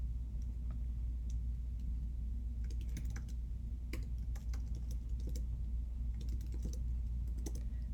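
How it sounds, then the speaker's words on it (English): Quiet keystrokes tap on a computer keyboard in irregular short runs over a low steady rumble, with no voice heard. "type in a standard name for how you like to save your maps"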